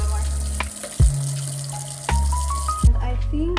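Hot water pours from a pot into a kitchen sink in a steady splashing stream, broken by a few brief clanks of the pot, close and moderately loud with no talking.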